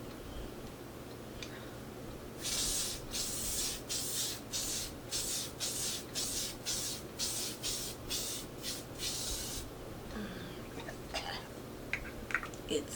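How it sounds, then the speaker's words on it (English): Makeup setting spray is pumped onto a face in a rapid series of about a dozen short, hissing misting bursts, fairly close and moderately loud, with quiet room noise around them. "So let's go in with the setting spray"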